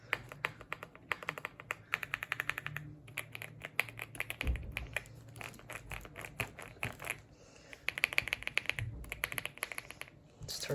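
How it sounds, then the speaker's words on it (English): Rapid clattering keystrokes on an Epomaker x Aula F75 Max mechanical keyboard, dense bursts of close, crisp clicks with brief pauses between runs, loud and alone without speech. "Let's hear how this keyboard sounds."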